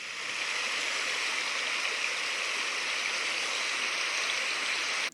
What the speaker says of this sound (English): Over the summer, I was using Calm River.